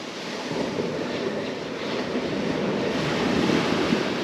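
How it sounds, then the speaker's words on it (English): Surf breaks and rushes on an Australian beach, a continuous loud wash of waves close behind with wind buffeting the microphone and no talking. "as you can probably hear, the waves are getting very close behind me"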